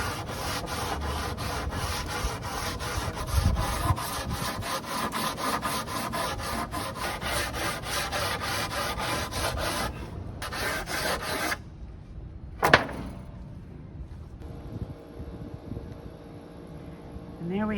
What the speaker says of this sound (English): all sanded and ready to go